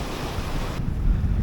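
Strong ocean waves at sea during a fishing trip surge in a loud, continuous broadband roar, with heavy wind buffeting the microphone and low rumbling gusts, no voices present.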